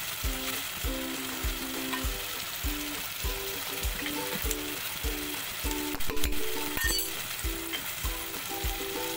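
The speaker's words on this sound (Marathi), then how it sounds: "आता त्याच्यामध्ये आपण वाटलेलं वाटण टाकणार आहोत आणि तेल सुटेपर्यंत मस्त परतवून घेणार आहोत" Ground masala paste sizzles steadily in hot oil for a Marathi halwa fish curry, while a spatula scrapes the pan in regular stirring strokes under the constant frying hiss.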